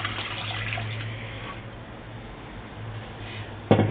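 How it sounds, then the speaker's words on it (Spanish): Milk poured into a cooking pot, a steady liquid rush running throughout, tapering slightly midway, with a sharp clatter at the very end. "y echamos un poco de leche. Ahí. Y el resto lo echamos en esta olla."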